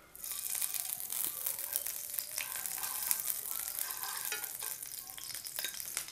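Ghee heating and sizzling in a pan on a gas stove while frying bafle, a steady crackling fry that runs continuously and fairly close, with no talking.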